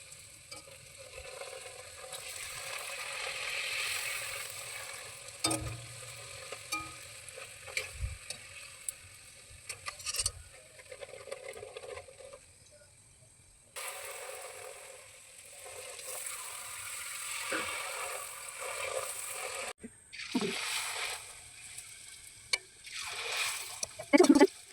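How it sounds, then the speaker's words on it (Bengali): Fuchka puris deep frying in hot oil, a steady broadband sizzle and bubbling that runs throughout with occasional stirring clatters and splashes, moderately close and without talk. "এবার ফুচকাগুলো ছাড়বো, হালকা করে চেপে ধরবো, ধরলে সব ফুচকা ভেজে যাবে,"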